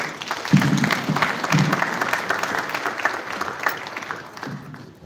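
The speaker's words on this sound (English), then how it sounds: "One more time, a warm applause for Ms. Asabe Ndai" An audience at a national peace accord signing in Nigeria claps in sustained, dense applause that fills the hall at steady loudness before gradually tapering off.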